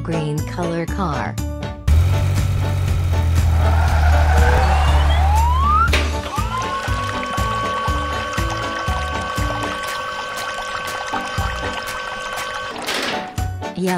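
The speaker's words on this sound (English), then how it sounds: "Green color car." A green toy car drives along with its siren wailing, a rising police-style tone with clattering wheels and musical tones, loud and continuous throughout.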